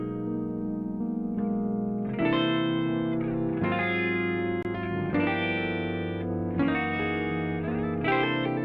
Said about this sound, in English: You'll always be able to hear that guitar come through.